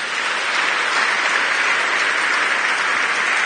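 A church congregation applauds loudly and steadily throughout, a dense close wash of clapping that holds without pause until a brief bump at the very end.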